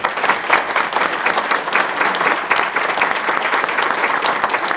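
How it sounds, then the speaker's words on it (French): A crowd claps steadily at a New Year's greetings ceremony hosted by a mayor, loud and close, a dense unbroken rattle of many hands lasting several seconds without speech. "je vous demande des applaudissements"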